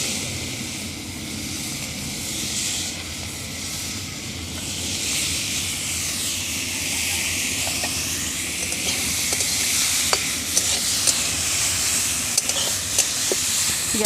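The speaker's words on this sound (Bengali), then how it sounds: "নিয়ে এবার মাছগুলোকে ভেজে নেব।" Prawns coated with salt and turmeric fry in a pan, giving a steady, even sizzling hiss that runs throughout with a few faint ticks and pops near the end.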